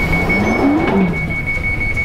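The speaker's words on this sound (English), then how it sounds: "Here we take a southbound train." A southbound London Underground deep-level train runs through the old tunnel stretch between Borough and Oval, with a steady low rumble, a sustained high whine and brief wheel squeals rising and falling near the start.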